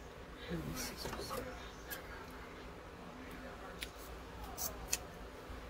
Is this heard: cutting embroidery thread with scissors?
yes